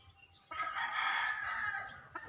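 A rooster crows once, close and loud, with a sustained call that fades into brief clucking from a farmyard hen with spurs among a small group of hens kept for eggs.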